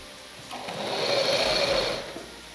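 A sewing machine runs alone in a steady, close whirring burst lasting about a second and a half, stitching a folded one-centimetre edge on the lining of a fabric blouse.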